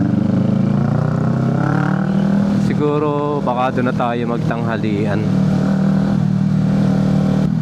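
A motorcycle with a newly replaced chain cruises along the road with a steady engine drone and rumble throughout, while a rider speaks briefly over the engine noise midway.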